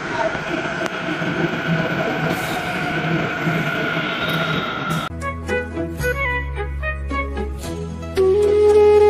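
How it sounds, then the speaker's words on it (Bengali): A Mumbai metro train pulls into the station with a loud, steady rumble and rising hiss, giving way to humming tones and a rhythmic clatter as it slows, with a brief jolt near the end. "আমাদের মেট্রো রেল এখন আমাদের মেট্রো স্টেশনে চলে এসেছে"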